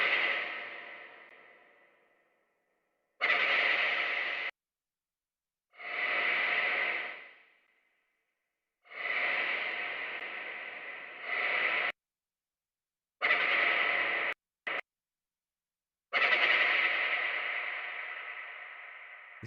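Bursts of a sound played through a huge-spaces ambience reverb preset during a tech house mixing session: separate loud, hissy swells with long reverberant tails, broken by short gaps and silences.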